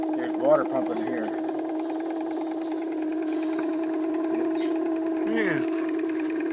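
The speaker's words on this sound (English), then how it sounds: "This water pump's constantly pumping water." Water pump on a steam mill engine's horizontal boiler runs with a steady mechanical drone and rhythmic chugging, close and continuous, while people talk over it.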